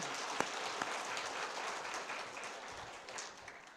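A congregation at a Sunday service in a church in Daegu applauds in a soft, distant, steady patter that gently fades toward the end, with a couple of sharper claps near the start.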